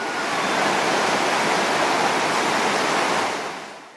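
Steady, full-bodied roar of a roadside waterfall in Nepal's Annapurna region, a dense unbroken rush of falling water heard up close and loud, with no voices, easing off slightly at the very end.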